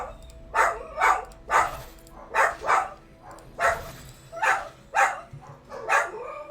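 Several household dogs bark repeatedly, about a dozen sharp barks in irregular pairs and singles, fairly close and loud against a low background hum.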